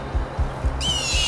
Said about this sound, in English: I think the birds have something to say to that